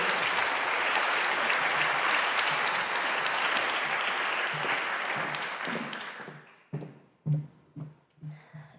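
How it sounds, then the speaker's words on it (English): Audience applause at an investment conference: a dense, steady roar of clapping from a large crowd that tapers off over the last few seconds into a handful of scattered, isolated claps. "Let's applaud him, Martin Ford."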